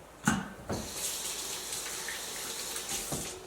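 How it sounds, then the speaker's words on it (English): Water runs from a kitchen sink faucet as hands are washed, starting with a knock and splash, then flowing steadily and close by, with splashing as the hands move under the stream. "I'm actually gonna wash my hands real quick."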